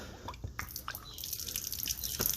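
Water drains from the fresh water tank drain of a 2019 Thor Freedom Elite RV, a faint trickle and patter of dripping liquid running steadily throughout.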